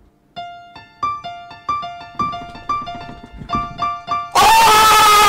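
Three piano notes in an advertisement are played as a quick repeating pattern of clear, bright struck tones, each one ringing and fading, before a burst of loud, dense noise cuts in at the end.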